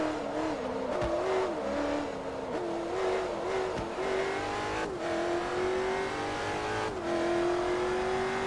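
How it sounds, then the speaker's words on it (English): A car drifting with tire squeal in the Forza Motorsport 3 video game, an engine revving and shifting through gears while tires whine, steady and fairly close. "Nice little drift."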